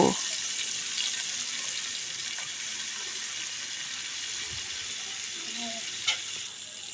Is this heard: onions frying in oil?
yes